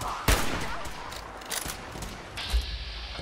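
An exploding feral ghoul in Fallout 4 goes off as a sharp, loud blast, followed by further bangs and rumbling impacts in a cluttered, noisy stretch.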